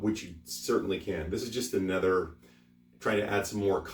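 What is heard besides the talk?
No everyday noise stands out behind the speech.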